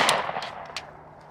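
A sharp gunshot bursts out at the start, followed by a few quicker cracks of rapid fire in an outdoor shooting session. The shots are loud and close, with no talk over them.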